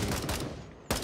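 Rapid automatic gunfire in the tactical shooter Gray Zone Warfare, a sustained rattling burst that drops off briefly and then resumes sharply at the end.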